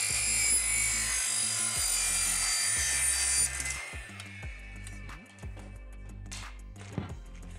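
A flap disc on an angle grinder sands wood to shave it down for a better fit on a small tongue-and-groove panel door. A loud, close, high-pitched whine with rough grinding comes first, then the tool winds down into scattered scraping and knocks.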